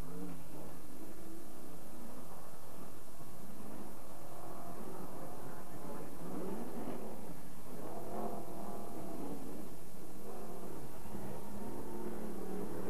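Off-road race trucks with V8 engines accelerate hard during a desert race, a continuous roaring, revving engine drone that swells and surges across the whole stretch, fairly loud and close with no voices.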